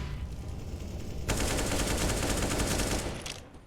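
Sustained automatic spray from SMGs and upgraded pistols in Counter-Strike on the Overpass map, a loud continuous rattle of shots into smoke that starts abruptly and runs for about two seconds before fading.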